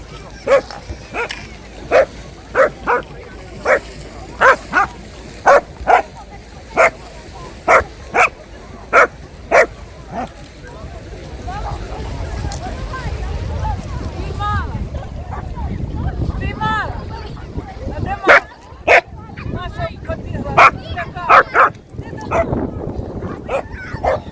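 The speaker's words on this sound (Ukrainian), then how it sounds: "Вона гавкає почему? Ну, гавкає." A dog barks near the Odesa seashore along the water, a series of sharp, loud, evenly spaced barks that break off for a stretch of splashing and voices, then return in a quicker burst near the end. People talk throughout.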